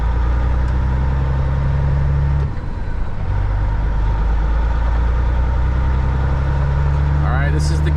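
Freightliner FLD120 truck on a test drive after a remanufactured transmission install, its engine droning low and steady from inside the cab, with a brief dip and shift partway through and a faint squeak near the end.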